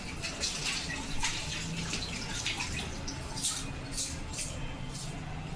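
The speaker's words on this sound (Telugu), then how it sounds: "నేను ఇప్పుడు వాష్ చేసుకొని కూడా చూపిస్తాను." Hands being washed with homemade natural soap under running water, a steady stream from the tap with faint splashes and rubbing, continuous and fairly quiet.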